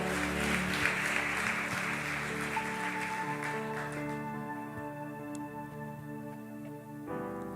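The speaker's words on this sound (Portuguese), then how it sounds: "Dá uma salva de palmas, se coloca de pé." Church congregation claps during a worship service, a broad burst of applause that thins out after a few seconds while sustained organ or keyboard tones carry on underneath and a single tone rings alone at the end.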